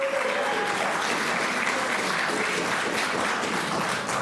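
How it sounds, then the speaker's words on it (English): Round of applause at an Oklahoma Route 66 Centennial press conference, a steady, moderately loud patter of many hands clapping, with a brief faint tonal whine near the start. "That deserves a round of applause."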